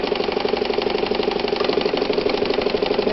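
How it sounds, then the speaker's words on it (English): Japanese-made Calanda sewing machine built for Pfaff running a zigzag stitch: a loud, steady motor whir with a fast, even mechanical pulse throughout, close up and with no talking. "You can be zigzag just for a minute, kind of like that."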